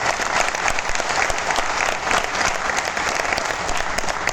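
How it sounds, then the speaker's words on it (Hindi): An audience gives sustained, dense applause for a speaker who has just presented on stage, a steady loud wash of many hands clapping with no talk over it. "आप लोगों से चाहूँगा गीता जान रेड्डी मैडम के लिए ज़ोरदार तालियों के साथ"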